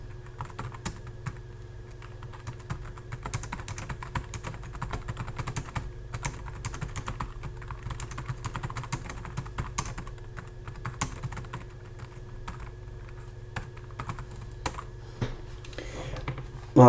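Steady typing on the keyboard of a Sony Vaio PCG-C1F laptop, a continuous run of quick, light key clicks at close range with no talking.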